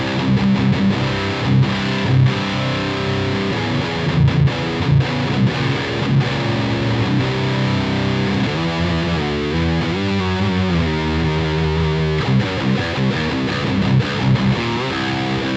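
Electric guitar played through a Mezzabarba Apocalypse 100W custom tube amp, boosted by a Horizon Devices Nano Attack on its lowest setting. It gives a loud, continuous, heavily distorted riff with chugging chords and busier melodic runs, with no talking.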